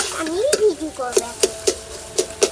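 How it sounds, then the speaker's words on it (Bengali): Grated paneer stirred in a pan for a vegetarian omelette, a series of short regular scraping strokes of spoon against pan, close and moderately loud, with a voice talking over the first second. "গ্রেড করা পনির ভালোভাবে নেড়ে চেড়ে নিতে হবে"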